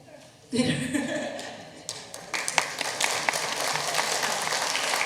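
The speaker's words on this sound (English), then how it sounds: "Please give an applause." Audience applause at a Korean community day celebration in Washington State. Clapping swells in after a brief pause and builds into a steady patter, with a voice heard early on and scattered laughter mixed in.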